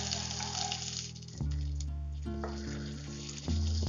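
Onions sizzle as they fry in a pan for an egg penne pasta, a steady crackling hiss that grows louder and fuller partway through, with a low, even hum beneath it.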